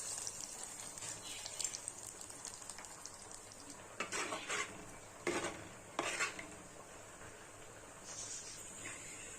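Hot tempering poured into pudalangai (snake gourd) sambar, giving soft stirring and faint sizzle with a few sharp bursts of hissing and clinking of a pot and spoon.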